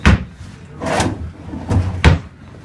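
Hotel room drawers at the Mirage slide open and shut in a few separate thumps and knocks, close and moderately loud, with short gaps between each bump.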